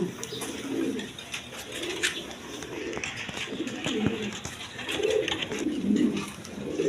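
King and golla pigeons kept for sale coo close by in repeated soft, throaty phrases, with faint background noise.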